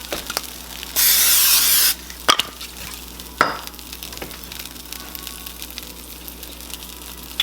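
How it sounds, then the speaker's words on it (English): Bacon going into a pan on high heat gives a loud, bright sizzle burst lasting about a second, followed by a couple of sharp clicks and then a faint, quiet hiss. "I'm going to turn it all the way up to high, get this bacon going."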